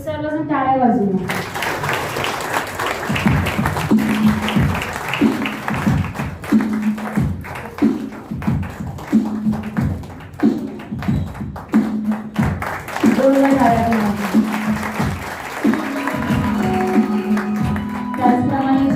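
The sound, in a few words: congregation applauding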